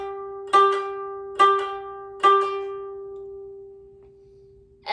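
A koto string rings out in three evenly spaced plucks, each note sustaining and slowly fading over a few seconds, with another pluck at the very end; close and clear, with no voices.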